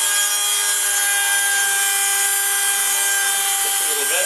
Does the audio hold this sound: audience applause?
no